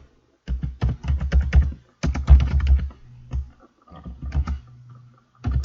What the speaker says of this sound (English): we seem to be doing quite a bit of typing here